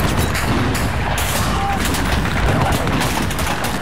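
Dense, continuous gunfire and explosions fill a Battlefield 4 urban combat scene in Singapore, loud and chaotic throughout, with a voice speaking underneath.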